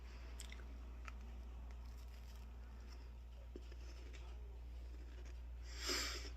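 A faint crunchy bite into a golden-brown home-baked cookie lands near the end, over a steady low hum with no talking.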